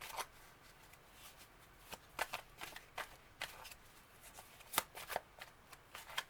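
Tarot cards are shuffled by hand in a quiet room, a run of soft, crisp riffling bursts and flicks in an irregular rhythm, close and fairly faint.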